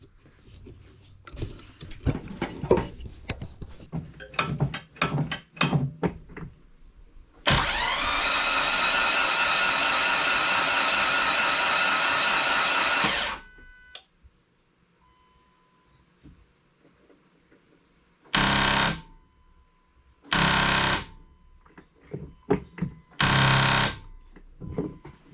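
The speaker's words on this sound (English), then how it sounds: "Let's crank this thing over." A Dodge SRT4 engine with its spark plugs removed cranks over on the starter: one long steady whirring burst of about six seconds, then three shorter cranking bursts after a pause, loud and close.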